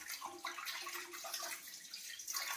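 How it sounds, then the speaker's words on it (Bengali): Hilsa fish being lightly rinsed in water, a soft continuous splashing and trickling wash, faint and steady throughout. "বেশি ধোবো না, কারণ ইলিশ মাছ বেশি ধোয় না, হালকা করে ধুয়ে নিই"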